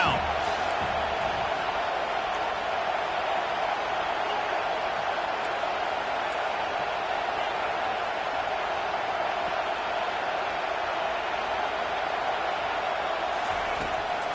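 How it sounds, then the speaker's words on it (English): Stadium crowd roar in the College Football 25 video game, Washington versus LSU, building on a third-down defensive stand; a steady, dense wash of crowd noise holds loud and unbroken throughout with no gaps. "Decibels rising as the crowd gets behind this defense on third down"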